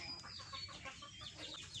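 Farm chickens cluck and chatter faintly at a small backyard farm near a pig pen, with scattered short calls overlapping in a quiet, slightly noisy setting.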